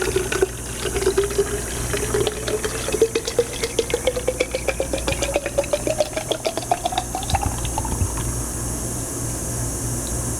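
Water pours steadily into a 1-liter bottle, the gurgle rising in pitch as the bottle fills, with a continuous splashing stream close up throughout.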